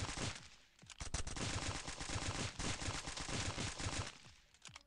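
Rapid automatic AK-47 fire in the Stick Warfare Blood Strike video game, dense continuous bursts of crackling shots with brief gaps, fairly quiet overall.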